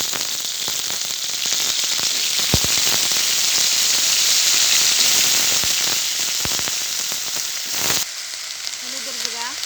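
Cauliflower added to a pan of fried whole cumin, onion and chilli sizzles in a loud, continuous crackle with sharp pops and the scrape of stirring, close up.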